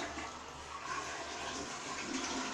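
Toilet flushing with a steady rush of water, fairly quiet and continuous throughout, with no talking.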